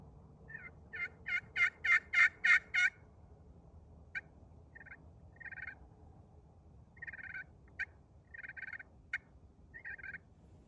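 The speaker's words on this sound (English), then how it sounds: "And I got turkeys answered me right there." Wild turkeys gobble back in answer to a pot call in the woods, one loud rolling burst of gobbles followed by scattered shorter, fainter gobbles and clucks over quiet outdoor background.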